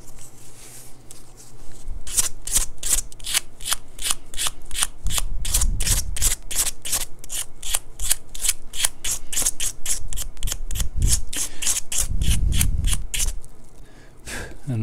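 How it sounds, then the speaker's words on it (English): Rhythmic back-and-forth sanding strokes on the end of a maple guitar fretboard with purple Cubitron 2 320-grit abrasive, roughly forty quick rasping passes, close and steady, with a few low thumps between. "And that's that end sanded."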